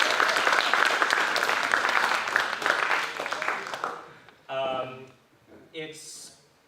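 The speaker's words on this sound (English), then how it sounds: "I need to give another round of applause to our tech folks." Audience applause at a fringe arts festival opening ceremony, thanking the tech crew; dense clapping for about four seconds that fades out, followed by a few brief spoken words.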